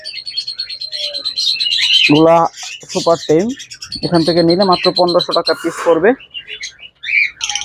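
Small hand-fed baby pet birds about two to two and a half months old chirp and tweet in soft, bright bursts throughout, mixed with someone talking close by.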